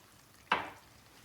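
Cold water splashes into a pan of cooking zucchini, setting off a single sharp burst of sizzling that flares loudly and then fades away within a fraction of a second against a quiet kitchen background.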